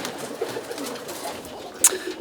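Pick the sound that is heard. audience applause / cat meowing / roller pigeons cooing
roller pigeons cooing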